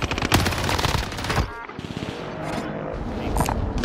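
Dense automatic gunfire in a Call of Duty match on Rebirth Island, rapid overlapping shots and bursts in a loud, busy battlefield mix with a short lull midway before the firing resumes.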